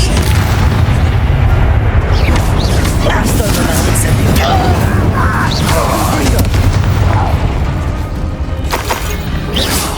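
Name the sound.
Confringo and Incendio spell blasts, Hogwarts Legacy video game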